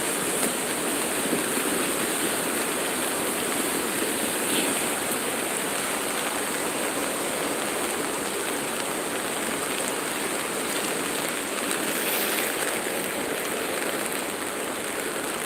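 River water flows steadily at a dam at the Last of the Mohicans historical site, a constant broadband rush with no breaks, close and fairly loud across the whole stretch.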